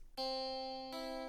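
A guitar rings out with sustained tones: the open first string keeps ringing while alternating fretted notes enter partway through. No talking.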